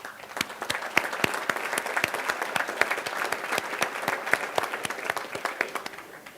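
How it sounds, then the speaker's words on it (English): Club members applaud together at an indoor gathering, a dense, steady clapping from a sizable group that holds at an even level for several seconds with no talk over it. "give yourselves a round of applause"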